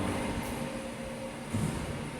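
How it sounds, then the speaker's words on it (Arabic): A Madrid metro train runs steadily with a continuous low rumble and rail roar, faint wheel squeal and clacking, heard from on board with no talk. "هذاك المترو اللي خيرو كيقولون، هذاك كيمشي تحت الأرض وفوق الأرض"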